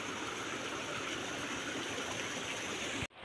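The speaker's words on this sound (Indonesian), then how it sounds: "Air mengalir." A stream flows beside rice paddies in a hillside village, a steady, close rushing of water that continues evenly until it cuts off abruptly at the end.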